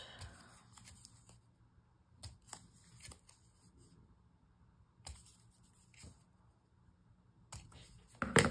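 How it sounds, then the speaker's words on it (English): Scissors snip corners in a handful of short, sharp cuts scattered over several seconds, crisp and close against near silence, with a louder clipped burst right at the end. "Snip the corners."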